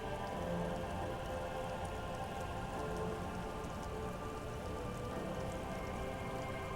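Steady rain falls in the video game Disco Elysium, a constant dense patter on surfaces with no breaks and no voices.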